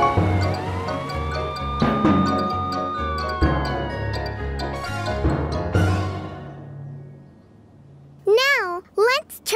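Wailing cartoon police car siren in a kids' animated show, rising and falling sweeps that burst in near the end after a stretch of music and voices, loud and close.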